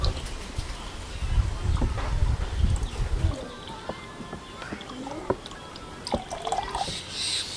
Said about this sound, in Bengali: দেখতে পাচ্ছ যে কিভাবে পানিটা বের হচ্ছে